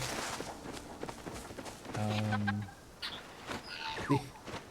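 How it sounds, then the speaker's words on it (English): Bird taking off in the video game Palia, a short flurry of flapping and a brief chirp near the end, amid game ambience, footsteps and other soft effects. "I scared the bird away. I just heard it fly."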